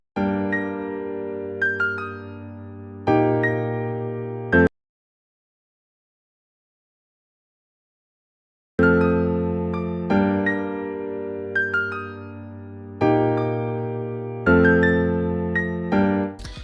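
Sustained piano-like chords in a slow emotional pain beat ring out in repeated held stacks. They cut to silence for about four seconds, then return and continue, loud and close with no voices.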